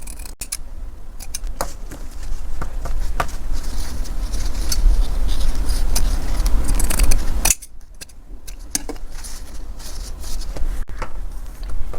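Scissors snipping fabric piping down to a narrow seam allowance while making a chair cushion, a close run of sharp repeated cuts over a dense rustle of cloth, with a short pause before more snips.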